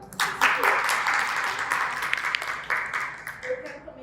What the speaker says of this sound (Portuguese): E as palmas para o Wagner.